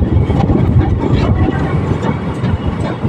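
Steel wheels of the Kolhapur Express rumble and grind on the rails as the train slowly rounds a curve on a mountain section near a tunnel: a loud, continuous, dense roar close by.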